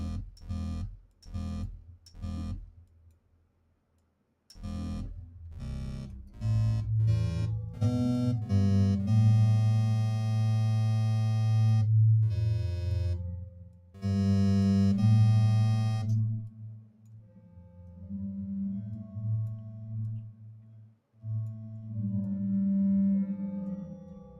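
A synthesizer oscillator in a HISE plugin, with simple reverb added, plays a few short plucked pulses and then sustained, harmonically rich held tones that swell and fade, alone and fairly loud throughout.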